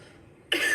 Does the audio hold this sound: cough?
yes